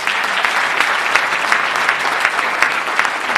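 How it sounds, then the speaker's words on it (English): An audience claps steadily at a mayor's State of the City address, broad dense applause with scattered sharper claps, close and loud throughout without speech. "Let's give him a nice round of applause"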